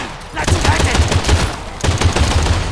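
Rapid bursts of video game gunfire crack close and loud in two volleys of repeated shots, with a short lull between them.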